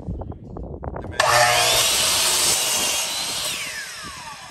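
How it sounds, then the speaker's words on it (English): A miter saw spins up and slices through exterior wood window trim on a mobile home, a loud sustained whine with a falling tail as the blade slows, after a short stretch of faint rustling and handling. "just set your miter up and cut right at the tip"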